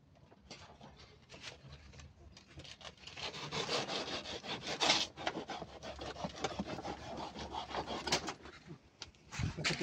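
A knife saws and rasps through a fibrous banana bunch stalk in the jungle, with repeated rough scraping strokes growing louder midway, and faint birds in the background.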